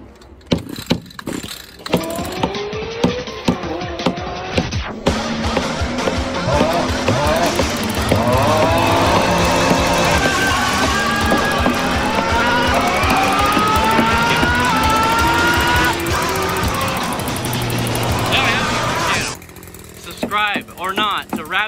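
An Echo SRM-2620 gas string trimmer engine sputters on choke, catches and roars to a high, buzzing run for most of the time, revving unevenly before cutting back.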